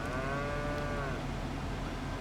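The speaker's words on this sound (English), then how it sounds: "we have some full-sized cows now" Cattle mooing in the Farming Simulator 25 video game, a single loud, drawn-out moo with a falling pitch that fades into steady farm ambience, heard alone with no talk.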